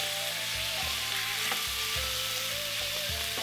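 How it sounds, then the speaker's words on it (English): Beef stir-fries in a hot pan, a dense steady sizzle close by with a low humming tone underneath and periodic soft bumps as the meat is moved around. "Beef cooks really quickly. Just stir it around, shouldn't take more than 3 to 4 minutes."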